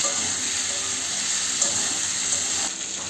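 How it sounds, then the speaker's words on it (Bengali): Papaya and potato pieces frying in a pan with turmeric and salt, heard as a loud, dense, close sizzle that runs the whole time and eases slightly at the end. "আমি পেঁপেটাকে সুন্দর করে লাল লাল করে ভেজে নেব"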